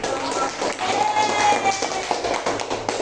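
Students applaud a classmates' group in a classroom assessment session, dense quick clapping from several hands that carries on steadily, with some talk mixed faintly underneath.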